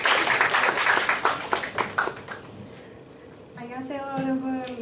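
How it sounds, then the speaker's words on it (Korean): An audience claps to welcome a presenter at a bilingual Korean and French event: a burst of applause that tapers off over a couple of seconds before a voice begins speaking alone. "큰 박수로 환영해 주십시오"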